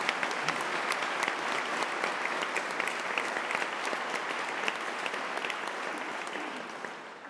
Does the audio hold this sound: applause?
yes